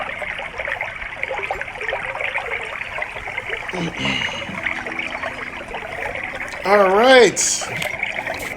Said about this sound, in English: Turning off the babbling brook.